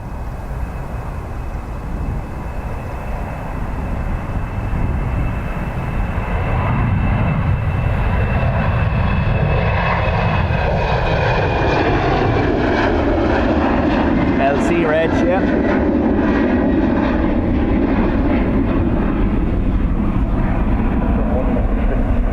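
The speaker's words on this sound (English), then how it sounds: "This is an Embraer for BA, so this has to be off to London City, is it?" British Airways Embraer regional jet at Dublin Airport, its engine whine and roar swelling from moderate to loud and holding steady as it passes nearby, with a voice talking over the start.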